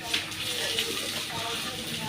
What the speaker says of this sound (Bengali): পানি দিয়ে দিই।